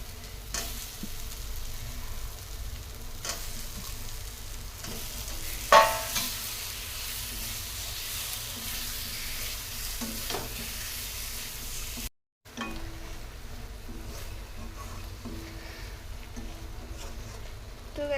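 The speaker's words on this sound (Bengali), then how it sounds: "মশলার সাথে আলুটা কষিয়ে নিয়ে আমি ওর মধ্যে একটু জল দিয়ে আবার কষাচ্ছি" Boiled potatoes sautéing in spice masala in a pan, a continuous soft sizzle beneath occasional scrapes of stirring and one sharper knock, with a brief dropout near the end and no talking.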